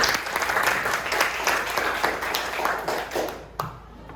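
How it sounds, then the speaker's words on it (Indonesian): A class applauds for a student named Diandra, steady clapping from a room of people that fades out near the end. "Tepuk tangan untuk Diandra dulu."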